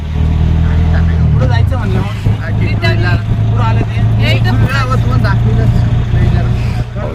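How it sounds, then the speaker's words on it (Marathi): An auto rickshaw ride with its engine running steadily, a loud continuous motor drone close by, with people talking over it throughout. "आता रिक्षात बसलो आपण."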